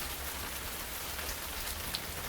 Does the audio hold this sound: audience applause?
no